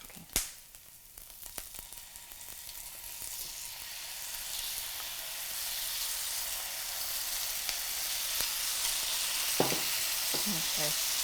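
Beef hitting a hot pan for Vietnamese shaken beef, bo luc lac, with a sharp initial clatter, then a bright, steady sizzle that swells and grows louder, with occasional spatula scrapes near the end.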